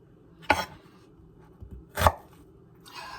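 A knife chops through a pungent onion on a cutting board as chilli prep begins, two sharp, close cuts about a second and a half apart with a fainter rustle trailing at the end.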